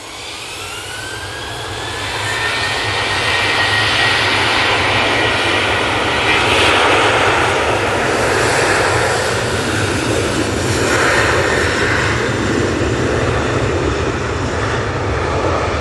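An Airbus A350 roars in close at Manchester Airport in gusty southerly wind. The jet noise rises over the first couple of seconds, then stays loud and steady with a whining engine tone sweeping across it. No voices are heard.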